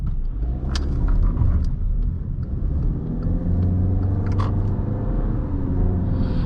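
A 2021 Volkswagen Passat with a 6-speed automatic drives along steadily, its low road rumble and engine drone holding even throughout, with a few faint clicks and ticks over the top.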